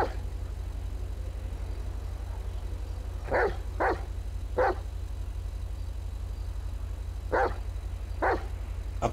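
Sharp, fairly close dog barks in GTA FivePD come in two short clusters, a few quick barks each, over a constant low idling drone, and no one speaks.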